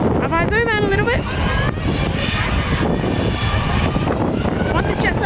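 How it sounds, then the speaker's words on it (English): A Jetstar airliner flies past, its broad engine roar filling the air while people talk over it. "If the Jetstar plane can come a little bit faster."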